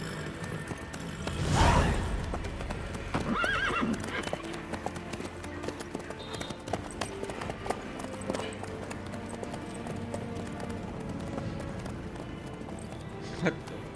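Horse hooves clip-clop in The Witcher 3, with a neigh or snort near the start and a steady trot continuing under game dialogue and ambient sound.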